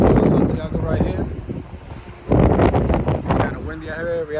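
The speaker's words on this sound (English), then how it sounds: "It's kind of windy out here." Wind blowing outdoors at a car and motorcycle show, heavy gusts buffeting the microphone in loud rumbling bursts, with someone talking over them.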